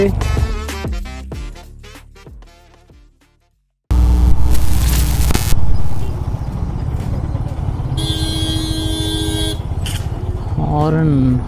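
Traffic noise in Hyderabad, India, with engines and a loud, sustained vehicle horn honking nearby, followed by a shorter tone, amid street bustle.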